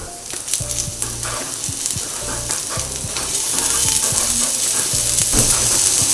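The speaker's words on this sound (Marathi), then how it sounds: "त्याच्यातच टॉमॅटो टाकणार आहे." Tomatoes sizzle as they fry in a pan with roasted onion and coconut for a Malvani chicken curry, a loud, continuous hiss with crackles and repeated scraping stirs close by.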